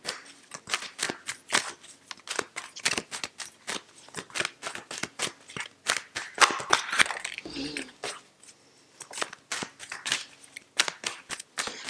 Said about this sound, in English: So just bear with me with the shuffling.